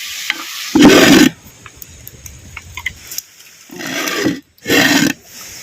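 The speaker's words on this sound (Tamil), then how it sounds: "நெய்யில சேர்த்த சிக்கனை அப்படியே சுருள சுருள அப்படியே கிண்டுறான்." Chicken pieces stirred in hot ghee in a pan, giving loud bursts of sizzling and scraping, three strong surges separated by quieter crackling, close up with no voices.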